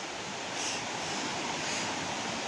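Steady broadband rushing water, a continuous wash of flowing river noise with no voices, close and fairly loud throughout, at a Konkan river.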